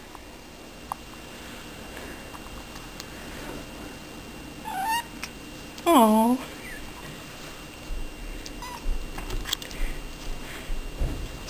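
A cat gives two short meows, the second louder and closer, against a quiet indoor background with a soft voice murmuring nearby.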